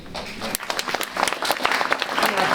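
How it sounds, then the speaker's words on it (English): A crowd at a candidate forum held at Berkeley claps for its hosts. The applause is a steady patter of many hands that swells toward the end, with faint voices underneath. "An applause to our hosts at Berkeley."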